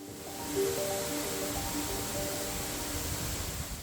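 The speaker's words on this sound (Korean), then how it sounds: "계곡 옆으로 난 계단을 잠시 걸어 오르면 거대한 바위 뒤에서 홍룡폭포가 아름다운 자태를 드러냅니다." Hongryong waterfall at Cheonseongsan in Korea, a steady broad rush of falling water that stays constant and fairly faint, with no voices.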